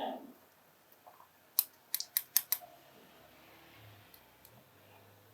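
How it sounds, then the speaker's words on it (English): Fly tying scissors from a budget kit are handled with a quick run of five crisp metallic snips and clicks near the middle, amid faint small handling ticks in a quiet room. "So probably the most important tool be these scissors."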